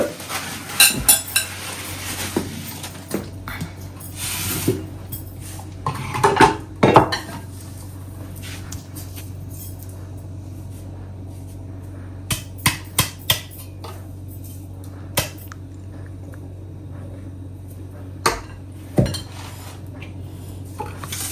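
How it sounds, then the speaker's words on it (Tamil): Metal pots and cutlery clatter and scrape in a kitchen as food is poured into a dry cooking pot and wiped down, with scattered sharp clinks and knocks in bursts over a low steady hum. "இதை காய்ந்த உலர்ந்த சட்டியில் இறக்க போகின்றேன்"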